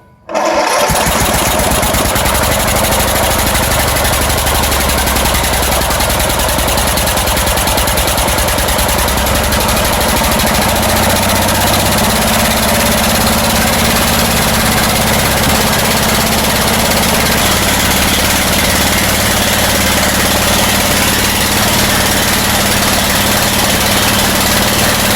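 A Briggs and Stratton vertical-shaft tractor engine, its muffler red hot and shooting flames, runs loud and steady without pause, a dense continuous roar close by.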